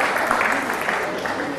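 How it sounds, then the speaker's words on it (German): Applause for Wolfgang Schneider at a charity auction event, a brief, full burst of many hands clapping steadily in a room. "Wolfgang Schneider, der bekommt auch einen ganz großen Applaus"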